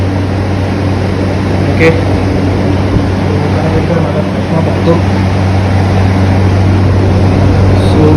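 A Novamax Rambo 75 desert air cooler runs with its fan on high speed, giving a loud, steady, close whooshing drone with a low hum throughout, while a person speaks briefly over it.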